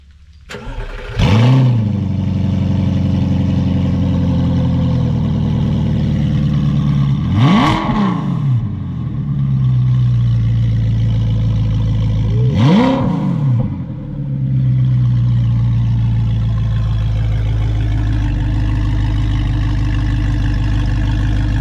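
A straight-piped, gated-manual Audi R8 of about 600 hp barks to life, then settles into a loud, deep idle broken by two sharp, snarling revs, close and unaccompanied.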